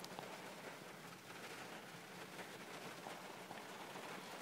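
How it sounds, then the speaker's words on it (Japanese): Rain heard from inside a parked car: a faint, steady patter and hiss of drops on the roof and windows, continuous and even throughout. "雨なので、車の中からです"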